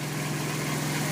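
A Nissan VQ V6 runs in a G35 after an engine swap, holding a smooth, loud, steady idle hum with no change across the short stretch.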